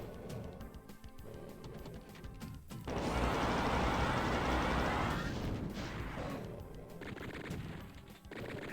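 Gunfire rattles in a shooter video game featuring a BFG, with dense bursts of shots and a sustained loud barrage in the middle, amid other game effects.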